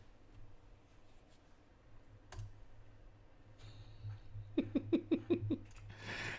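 Quick burst of typing on a computer keyboard, about half a dozen close, sharp clicks in a row over a low steady hum, with a softer tap before it.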